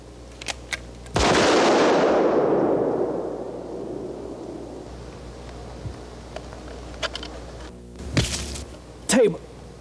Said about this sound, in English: You can't shoot a gun like that.